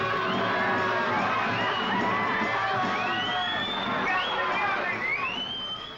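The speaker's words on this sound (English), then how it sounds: "Traffic stops. The crowd grows." A large crowd gathered in a city street in 1967 after traffic has stopped, shouting, whooping and cheering in a loud, continuous outdoor din that fades slightly at the end.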